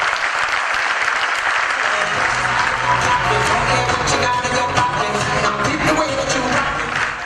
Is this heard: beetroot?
no